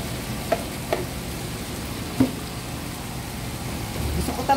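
Bitter gourd (ampalaya) added to a hot pan sizzles in a low, steady hiss, with a few light clinks from the pan and the sizzle rising slightly near the end.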